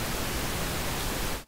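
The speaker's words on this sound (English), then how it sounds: "The unfiltered pink noise sounds like this." Unfiltered pink noise, a dense, even hiss across the whole range that plays loud and steady, then cuts off abruptly at the end.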